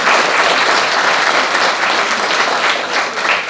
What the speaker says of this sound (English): So let's give a round of applause to our Miramar College Financial Aid and Scholarship Office.